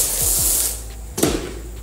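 Cleaner sprays onto a carpet laid on a home floor in short close hissing bursts, followed by a sharp louder spray burst partway through, with no one talking.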